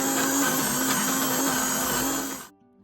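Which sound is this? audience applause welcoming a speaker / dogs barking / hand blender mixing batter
hand blender mixing batter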